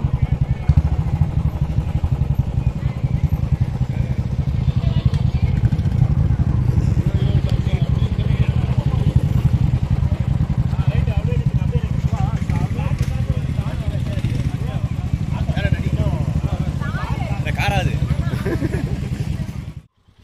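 Motorcycles on a group ride toward Yercaud, a loud steady engine drone and wind rush recorded close while riding, with voices speaking over it throughout before it cuts off abruptly.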